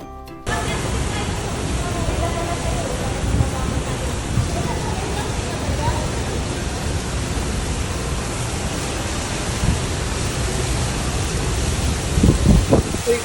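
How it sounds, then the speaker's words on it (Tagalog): Strong wind roars steadily with a broad rushing hiss, mixed with rain during a storm in Dubai, continuing without a break; faint voices surface now and then. "napakalakas talaga nung hampas ng hangin at sobrang nakakatakot na para bang binabagyo na"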